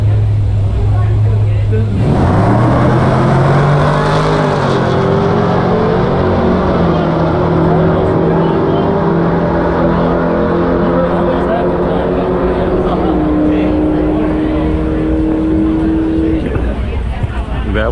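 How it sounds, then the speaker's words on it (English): A loud drag racing engine at CamaroFest roars up and holds a high, droning pitch for many seconds, with crowd noise underneath. "Just showing you guys a little footage of the drag action."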